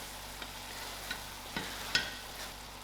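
Gram dhal with salt is stirred in a frying pan, soft sizzling under a few light scrapes of the spoon against the pan, quiet and close.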